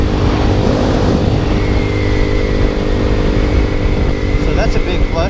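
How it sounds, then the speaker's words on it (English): A Boom Vader motorcycle, a small Grom-clone bike, runs steadily after a normal cold start without choke, its engine drone loud and close throughout, with faint higher whines near the end. "It starts up just fine on the normal start."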